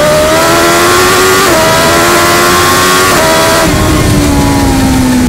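A 2021 BMW S1000XR motorcycle accelerates hard, loud and close, its engine note climbing in pitch through several rising sweeps broken by quick gear changes, with no voices.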